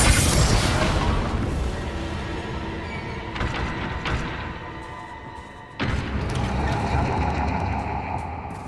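Spell blasts from Bombarda and Confringo cast in Hogwarts Legacy, a loud continuous rumbling burst with crackling debris, a sharp cut near the middle, then a second heavy blast that keeps roaring to the end.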